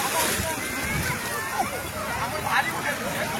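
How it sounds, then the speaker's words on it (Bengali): Speed boats being launched one after another into the sea at Digha beach, heard as steady water sloshing and splashing with a constant wash of surf, while a murmur of distant crowd chatter runs underneath. "পরপর বোটগুলোকে নামানো হচ্ছে দীঘার সমুদ্রে।"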